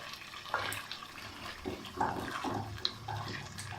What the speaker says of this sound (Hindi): अच्छा इसका मैंने मसाला थोड़ा भून लिया, अब बस हम इसमें पानी डाल रहे हैं